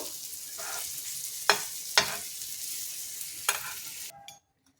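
Sesame-coated paneer roasting in a hot pan gives a steady close sizzle, broken by a few sharp scraping stirs, then cuts off near the end. No talking.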